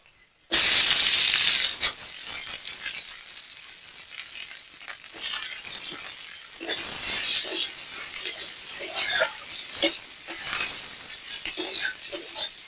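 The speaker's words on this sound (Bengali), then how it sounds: "কাঁচা লঙ্কা আর পেঁয়াজ গুলো একটু ভেজে নিচ্ছি" Green chillies and onions with black cumin hit hot oil in a pan and break into a sudden loud hissing sizzle, which settles into a crackling fry with scattered pops.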